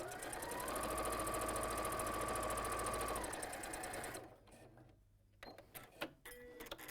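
Sewing machine stitching along the seam allowance while attaching a piece for a bird-themed sewing project, a loud steady whirring run of about four seconds that then stops, followed by quieter handling sounds.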